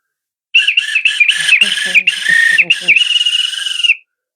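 A whistle blown softly in a series of short and longer toots, with wavering pitch, close and fairly loud, and no talking alongside it.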